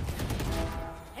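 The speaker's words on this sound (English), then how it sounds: "A shot." A single gunshot in the tactical shooter Valorant, heard as a quick crack with a brief rattling tail in game audio.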